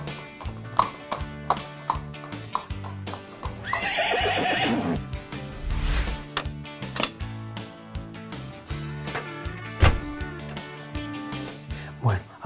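Toy horse play with a whinnying neigh and clip-clopping hooves, set among busy toy sounds and music, with a loud neigh near the middle.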